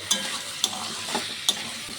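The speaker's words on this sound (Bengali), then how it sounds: "ভেজে রাখা ফুলকপি আলুটাকে দিয়েও একটু নেড়ে ছেড়ে নেব।" Fried cauliflower and potato being tossed with spices in a pan: a soft steady sizzle with three sharp clinks of the spatula striking the pan at even intervals.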